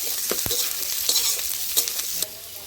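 Onion frying together with potatoes in a pan, a close, steady sizzle broken by a few sharp scraping stirs, with no talking.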